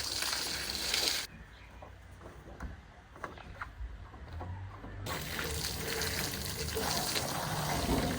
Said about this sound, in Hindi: बार बार से पानी मारता हूँ